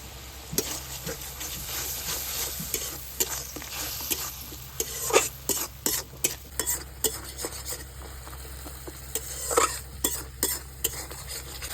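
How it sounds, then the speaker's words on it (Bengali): Whole green chillies go into hot spices in a pan for a cauliflower curry, with a steady sizzle under repeated scraping and clinking stirs from a utensil, close and fairly quiet. "আর দিয়ে দিচ্ছি আস্ত কাঁচা লঙ্কা"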